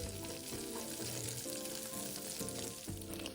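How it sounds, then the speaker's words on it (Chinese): Minced dried shrimp, pre-soaked and drained, stir-fry in scallion oil over medium-low heat, giving a steady close sizzle with scraping stirs and the occasional clink of a spatula. No one speaks. "剁碎，加入爆香"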